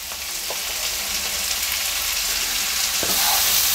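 Chopped bottle gourd frying in a pan with spices and green chilli for a prawn bottle-gourd dish, a steady loud sizzle with brief stirring clinks and no talking.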